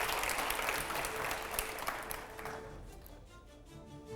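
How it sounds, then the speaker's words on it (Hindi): Studio audience at a televised interview with a BJP MP breaks into loud applause that fades after a few seconds, leaving faint tonal background sound. "पहले आइए, जोरदार तालियां हो पहले अगले सवाल से पहले।"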